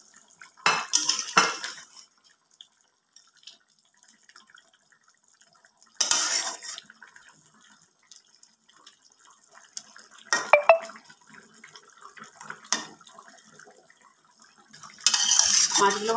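Katla fish pieces are laid one by one into a pan of gravy for curry, giving a few separate bursts of clinking and sizzling clatter with quiet gaps between them, close and moderately loud, with no talking.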